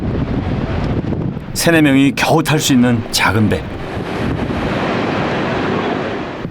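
Strong wind roars over high ocean surf at the Nouakchott fishing port, where small boats push out into the waves; a narrator speaks over the steady rushing noise midway through.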